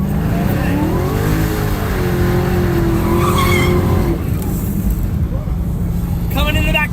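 A Dodge Hellcat Redeye corners hard on a racetrack, its engine droning loudly as tires squeal through the bend and it brakes, with people talking over the noise inside the car.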